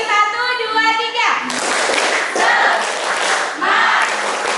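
A class of schoolchildren performs the tepuk semangat cheer in a classroom, opening with a brief chanted group shout, followed by three loud, dense bursts of many hands clapping together in unison, each lasting about a second.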